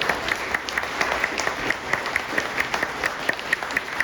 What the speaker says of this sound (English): Again, round of applause for Julie.